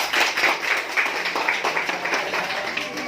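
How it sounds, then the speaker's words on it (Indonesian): Classroom applause for a student: a short burst of many hands clapping at once, moderately loud and fairly even, with faint voices mixed in. "Oke, tepuk tangan buat Asrul."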